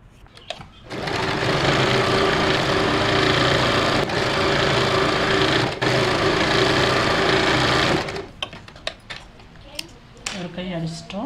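A sewing machine runs at a fast, even pace for about seven seconds, stitching the folded hem of a blouse. It then stops, leaving a few clicks and handling noises.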